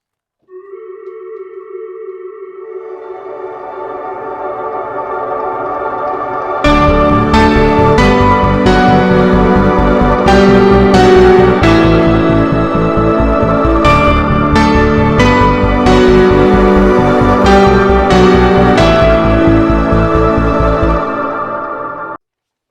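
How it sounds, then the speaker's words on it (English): A keyboard intro that starts with a sustained synth pad, then fuller layered synths enter with rapid repeating notes and sharp accents, loud and busy until it stops. "Let me play you the intro to give you an idea of all the various sounds"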